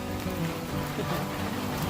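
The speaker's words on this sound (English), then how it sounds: "I'll step in out of the rain here." Heavy rain falls steadily outside a Smoky Mountains trail shelter along the Appalachian Trail, a dense, even, close hiss of drops on the roof and ground with no pauses.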